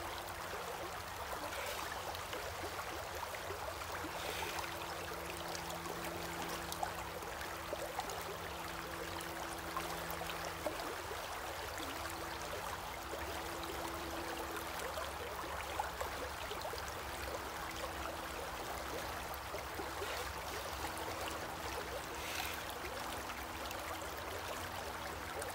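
Bear Creek, a prospecting creek, flows in a steady broadband rush that runs unbroken for the whole stretch at moderate level, with a faint low hum beneath and no talking.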